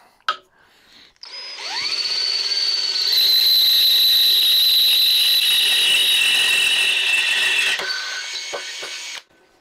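A power drill runs steadily at high speed for several seconds with an oiled bit, drilling a Diaco finger brake, a loud whining tone with grinding texture, then winds down and stops.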